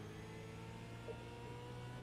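V8 race car engine in a racing simulator held at full throttle down the straight toward the start-finish line at The Bend, a steady, droning high-revving tone that stays loud and even throughout.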